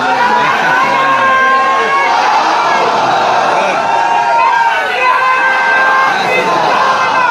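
A gathered crowd at an Islamic religious address chants a slogan together, voices merging into a loud, continuous, slightly rough roar that swells and holds for the whole stretch.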